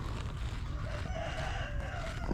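A rooster crows at a chicken farm, a faint, drawn-out call rising over steady low background noise and wind rumble, heard from some distance.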